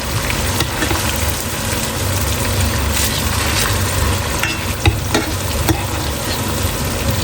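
A cod fillet fries in a pan while being basted with butter, giving a steady, loud, close sizzle and crackle that runs unbroken throughout, with a few sharper spits and pops near the end.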